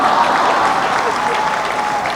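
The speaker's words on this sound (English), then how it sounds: "And ladies, another round of applause for Vijay." Applause from the audience at a women achievers awards grand finale, dense and steady across the whole stretch, with a voice talking over it.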